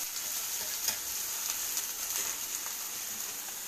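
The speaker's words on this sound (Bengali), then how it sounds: "এই বেগুন পেঁয়াজ কালো জিরে ফোড়ন দিয়ে ভাজা হচ্ছে" Brinjal and onion fry with nigella seeds in a pan, a continuous soft hiss of oil with faint scraping stirs and small pops, fairly quiet and steady, no voices.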